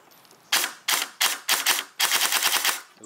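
An airsoft AK rifle fires on semi-auto, sharp close shots coming singly at first, then in a quicker string of about eight, loud and alone against a quiet background.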